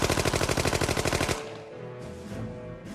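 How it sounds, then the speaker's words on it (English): A Thompson submachine gun, the Tommy gun, fires a fast, loud, evenly spaced burst of rounds for just over a second before cutting off. A lower rumbling tail and faint background noise follow. "If there was one gun that let everyone know a criminal had arrived, it was the Tommy gun."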